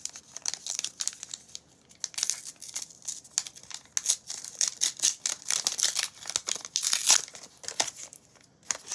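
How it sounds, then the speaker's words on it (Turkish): A McDonald's Pokémon card pack wrapper is torn open and handled, giving steady close crinkling and crackling plastic with sharp tearing bursts throughout, no voice present. "Bunları ben kenara alıp kartımızı açıyorum."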